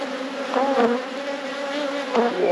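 Honeybees buzz continuously around an open hive, a close steady drone with slight swells in loudness and no voices.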